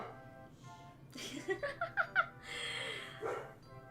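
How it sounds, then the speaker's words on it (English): Dogs bark in a quick run of five or six sharp, fairly loud yaps close by, followed by a brief whine-like sound and a final bark, with a faint voice in the background. "they're always really loud. They bark at everything."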